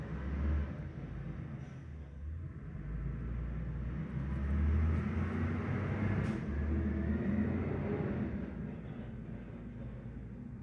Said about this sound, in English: that's the garbage truck going by